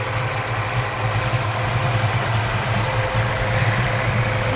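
A 1993 Ford Mustang with a 363 Boss engine, full roller and Trick Flow heads, stainless headers, idles close by with a steady, rumbling, even burble that holds constant throughout, with no talking.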